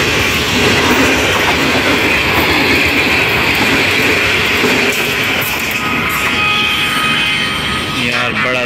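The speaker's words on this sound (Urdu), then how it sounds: "اور ٹرین بھی آ رہی ہے ساتھ" Train passing close by at a housing development, a loud continuous roar of wheels and rail cars with clickety-clack and wheel squeal, and faint talk under it.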